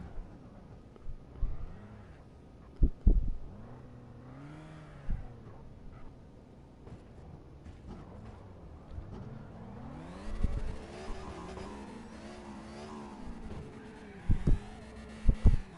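A drift car's engine revs and whines in CarX Drift Racing, rising and falling in pitch through repeated throttle blips, with a few sharp thumps and a louder, busier stretch of revving toward the end.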